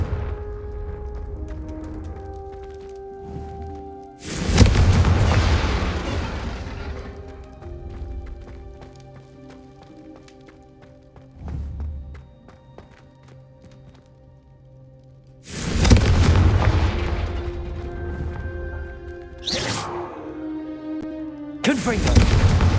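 Confringo blasting spell explosions in Hogwarts Legacy, two loud sudden bursts with long crackling decays, each followed by fainter impacts, set against a quieter game soundscape with spoken dialogue between blasts.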